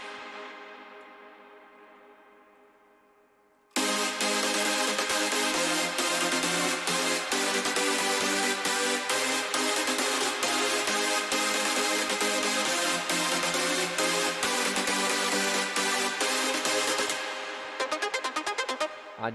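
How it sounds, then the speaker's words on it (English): Heavily processed synth chords from a festival-style remix of a song, loud and dense with steady rhythmic pulses, entering abruptly after a fading intro tail and running alone without talk until a brief stutter near the end. "Chords sound like this."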